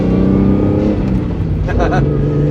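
A manual-swapped Toyota Supra Mk4 holds at full speed, its engine droning loud and steady from inside the car with a constant harmonic hum and slight pitch shifts.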